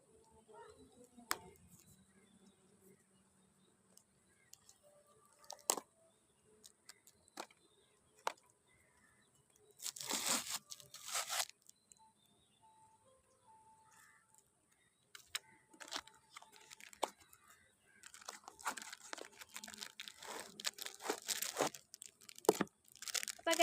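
Plastic packaging of a four-piece hair clip set being torn and crinkled open during an unboxing, close and quiet, in scattered short rips and crunches with a few louder bursts of tearing and rustling, no talking.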